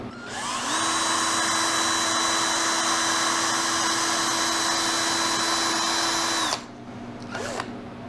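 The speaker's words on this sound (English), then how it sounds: "Nope, so the drill." A power drill whines steadily at a high pitch for several seconds, then cuts out abruptly, followed by a brief faint mechanical sound.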